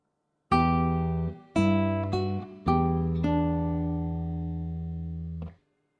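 Classical guitar picking a phrase from Bach's Minuet in G, several clear plucked notes in sequence with one long ringing final note, played alone and close.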